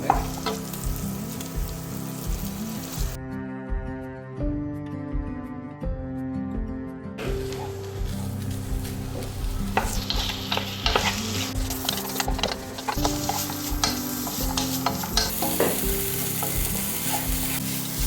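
Onion, garlic and chicken fry in a pan for a chicken pizza topping, a loud, dense sizzle near at hand with stirring scrapes and clatters throughout, and no voices.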